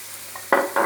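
Pork curry ingredients with pumpkin are stir-fried in a pan: a soft sizzle, then two quick, close scraping stirs in under a second.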